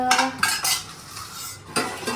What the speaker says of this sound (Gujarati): જમવાનું પતી ગયું છે અને હું ઘસું છું વાસણ